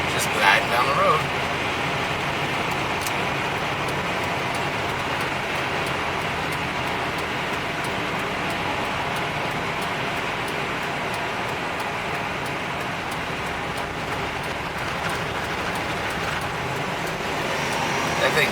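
Interior road noise of a 1998 Ford E-350 Club Wagon 15-passenger van cruising at speed, a steady broadband rumble and hum of engine, tires and wind that stays even throughout.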